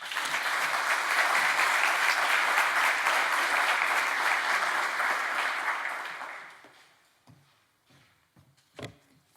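A conference audience at a Smithsonian digitization closing keynote applauds warmly as the speaker is welcomed, steady loud clapping for about six seconds before fading out into a few scattered bumps and room noise.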